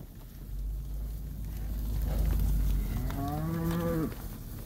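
Black cattle out on pasture give one long, loud, close moo that rises and then trails off, heard over steady wind and outdoor rumble.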